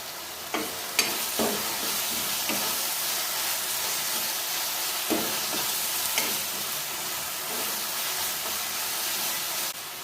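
Curry leaves dropped into hot oil for a spicy mushroom curry sizzle steadily and loudly up close, with a few sharp pops and crackles over the constant hiss and no talking.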